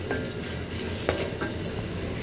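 Garam masala spices fry in a pan with a continuous close sizzle, and a couple of brief sharp clicks rise above the steady hiss.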